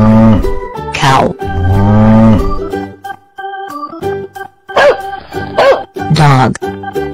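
A cow moos loudly twice in long drawn-out calls, followed by lighter background sounds and a few shorter calls over music.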